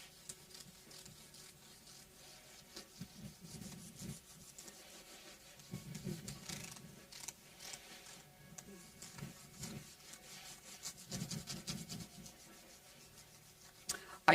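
Fine 1000-grit sandpaper rubbing over the frets of a Fender Jazz Bass, a soft, steady scratchy rasp in repeated back-and-forth bursts, close and quiet with no talking.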